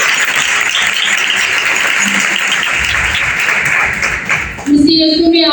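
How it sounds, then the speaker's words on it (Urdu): A church congregation bursts into loud, sustained applause during a sermon, dense clapping filling several seconds before it fades and a voice begins over faint tones. "ہم پرزور تالیوں سے خدا کی خاطر کرتے ہیں"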